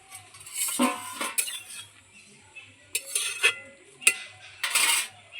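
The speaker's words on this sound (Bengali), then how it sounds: "ঢাকনাটা খুলে দেখে নিন" A metal pot lid lifted off cabbage boiling in a pan, a series of close, sharp metallic clinks and clatters separated by quiet gaps, over a low steady hum.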